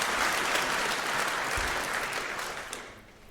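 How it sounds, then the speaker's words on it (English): A conference hall audience at a hacker congress applauds, with a dense, even wash of clapping that fades toward the end. "let's give a round of applause for the heralds and the angels"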